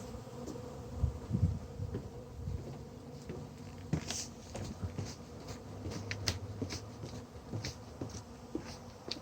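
Honeybees buzz around in a loose swarm near beehives, droning hums rising and fading as insects pass near the microphone, with faint rustling underneath.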